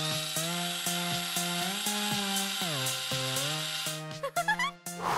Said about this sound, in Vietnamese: Chị à, mang lại giúp cho em cái máy khoan với.